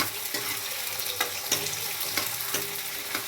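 Curry leaves and garlic sauté in a pan, a soft continuous sizzle broken by a few sharp scraping stirs at irregular intervals, close and fairly quiet with no voices.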